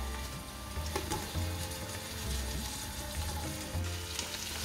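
Chicken pieces fry with onion in a hot pan, a constant close sizzle with occasional stirring scrapes and no talking.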